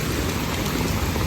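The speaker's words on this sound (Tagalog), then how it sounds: "Ang lalaki ng patak ng ulan. Tapos malakas pa siya." Heavy rain pours down in big, fat drops, a dense, steady roar of water hitting the ground up close with no letup and no voices.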